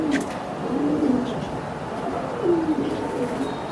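Racing pigeons coo in a loft, soft low repeated coos rising and falling at close range, with a few faint chirps from other birds.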